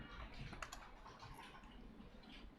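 Quiet keystrokes on a computer keyboard as a number is typed, a short burst of soft clicks, alone and fairly faint.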